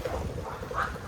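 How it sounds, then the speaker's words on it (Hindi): A bird in Harsil Valley, Uttarakhand, calls noisily as it takes flight, giving a short burst of harsh, quacking cries close by over outdoor ambience. "एक चिड़िया थी वो शोर मचाते हुए गई है लिटरली"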